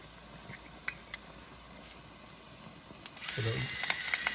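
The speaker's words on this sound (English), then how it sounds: "I just got this salt pepper grinder. I'm using Himalayan pink salt in it." Salt and pepper grinder cranking Himalayan pink salt in a kitchen, a few faint clicks early, then a louder gritty ratcheting grind near the end.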